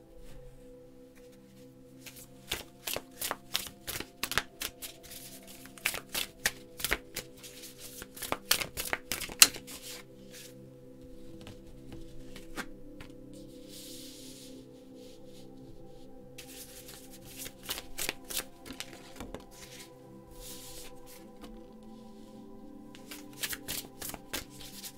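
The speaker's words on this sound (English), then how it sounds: "I'm just going to start shuffling the cards." Tarot cards being shuffled by hand, repeated quick riffling bursts in several clusters with short pauses between, close and fairly quiet over a low steady background hum.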